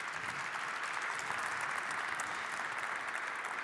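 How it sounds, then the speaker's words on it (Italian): A steady wash of audience applause in Padova, even and continuous with no letup, sitting at a moderate distance. "ti arriva un applauso da Padova"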